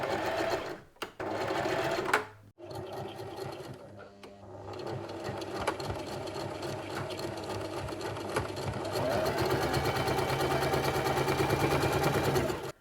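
A sewing machine runs backstitches in fabric, a steady fast mechanical whir broken by brief pauses as it stops and reverses, then continuing at a constant pace.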